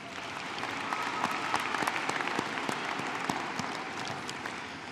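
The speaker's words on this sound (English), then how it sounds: "Give yourselves another round of applause" Graduates and guests at the 2018 University of Denver graduate commencement give a round of applause, a moderate, steady crowd of clapping with distinct individual claps standing out, sustained for about five seconds.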